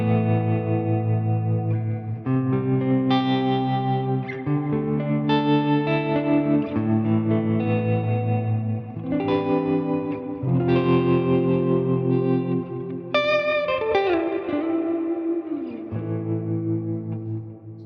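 An electric guitar played through a Quad Cortex with separate delays and a modulated reverb rings out in a slow sequence of sustained chords and notes, each trailing into shimmering echoes and a wavering ambient wash, with no talking.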